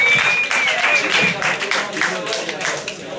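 Loud crowd applause and cheering erupts at a 2013 freestyle rap battle preliminary round, dense and bursting near the start, then continuing with scattered claps and shouts while voices call out over the noise.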